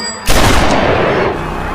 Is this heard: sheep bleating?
no